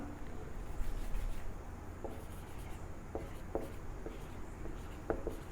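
A marker or chalk writes on a board in soft, scratchy strokes with brief taps between words. It is faint and close, steady over several seconds, with no voice.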